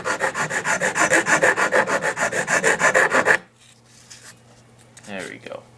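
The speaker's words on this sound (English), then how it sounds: "Now the filing's done." A hand file rasps back and forth across the grooves of a motorcycle clutch basket in quick rhythmic strokes, about twenty close, loud scrapes, followed by quieter handling sounds and a brief voice.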